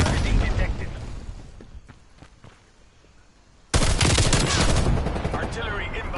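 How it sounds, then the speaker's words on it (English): Incoming artillery and heavy gunfire erupt in a PS4 war game, with loud bursts of shots and blasts, a quieter lull with scattered cracks, then a sudden intense barrage filling the second half. "Artillery inbound."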